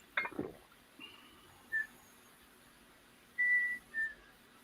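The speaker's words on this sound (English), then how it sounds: "Who's whistling?" A few short whistled notes, faint and spaced apart against a quiet room, preceded by a brief knock or rustle.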